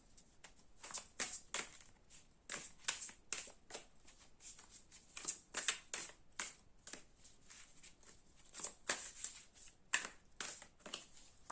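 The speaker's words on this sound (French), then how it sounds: "les cartes glissent vachement bien" Tarot cards shuffled by hand in a steady run of crisp riffling bursts, some quick and some spaced out, heard close and fairly quiet with no voice over them.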